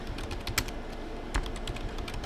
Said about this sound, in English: Just type in password.